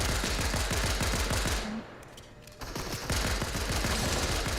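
Rapid automatic gunfire rattles in Fortnite, dense bursts that drop out briefly mid-clip before resuming, loud and close with no talk.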